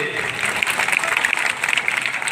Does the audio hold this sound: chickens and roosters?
no